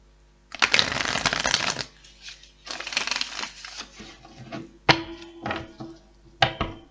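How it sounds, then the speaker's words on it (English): Tarot cards shuffled in several quick riffling bursts, crisp and close, with short pauses and a few taps between them. "One more shuffle."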